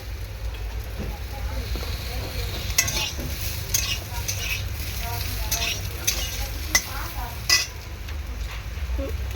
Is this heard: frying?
yes